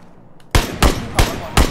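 Four loud, close gunshots ring out in a shooter video game, spaced roughly a third of a second apart after a quiet lead-in.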